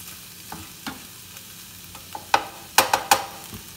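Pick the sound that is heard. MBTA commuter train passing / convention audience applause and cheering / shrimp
shrimp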